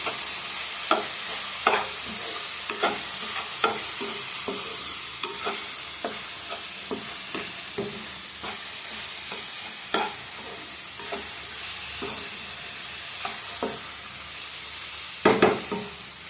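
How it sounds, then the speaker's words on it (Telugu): Cabbage stir-fries in a pan, a steady close sizzle broken by regular scraping stirs of a utensil, with a couple of louder knocks near the end. "క్యాబేజీ ఫ్రై రెడీ అయిపోయింది"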